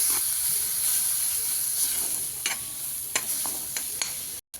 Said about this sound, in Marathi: आता थोडंसं हलवून घेऊया लाल होईपर्यंत